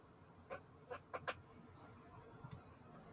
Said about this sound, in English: I got my gaming keyboard that's loud.